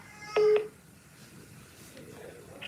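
Touch-tone telephone keypad pressed once, a short steady DTMF tone on an automated collect-call line from a prison facility, followed by faint line hiss and low background noise.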